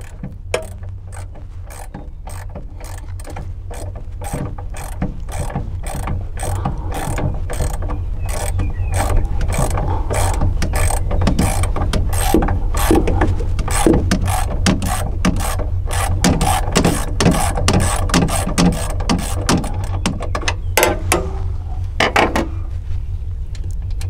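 A hand ratchet with a 10 mm socket removes nuts holding the ECU on a Mahindra Roxor, clicking in rapid, continuous bursts of loud, close-up ticks for the whole stretch.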